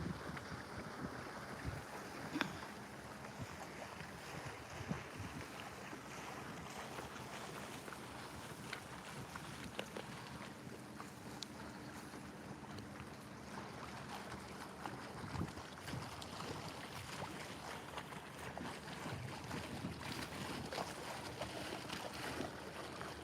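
A boat passes on the River Thurne in the Norfolk Broads at Repps Staithe, a faint, steady low rumble under light wind and water noise outdoors, with no talking.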